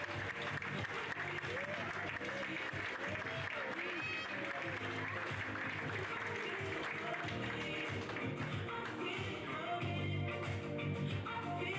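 Sustained audience applause greets arriving coaches at a French pony carriage-driving championship awards ceremony, faint and steady, with talk and music mixed in underneath.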